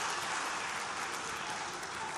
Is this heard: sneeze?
no